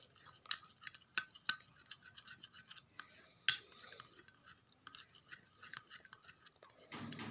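Homemade whitening cream is stirred in a small container, giving faint, quick rhythmic scraping and clicking strokes with a few louder taps, close by and quiet.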